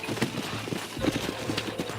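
Horses in the Red Dead Redemption video game clip-clop along with a steady, close hoofbeat rhythm on hard ground for the whole stretch.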